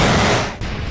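Chinese army cannon fire: a dense, roaring broadband blast filling the whole second, loud and continuous with a brief dip near the middle, no voices.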